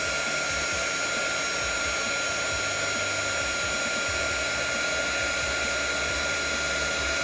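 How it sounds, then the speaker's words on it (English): A heat tool roars steadily and loudly for the whole stretch, melting embossing powder over handwritten lettering, with no voices over its constant blowing hiss. "you will begin to see how the powder reacts to the heating tool and embosses your handwritten font"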